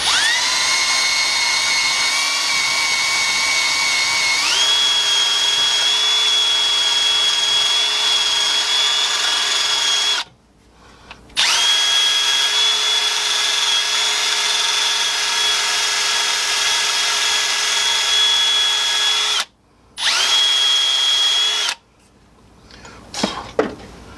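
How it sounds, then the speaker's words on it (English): High-pitched power sander whining steadily on the edge of a brake part during front brake and rotor replacement on a 2008-2012 Chevrolet Silverado 1500, running loud and continuous with two short pauses and a brief final burst. "So we're going to sand off the edge a little bit."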